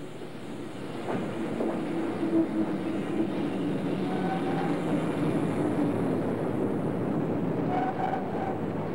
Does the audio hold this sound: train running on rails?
yes